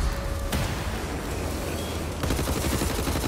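Dense bursts of automatic gunfire from the shooter Wolfenstein: The New Order, loud and continuous with overlapping shots and a sharp cut partway through, no voices.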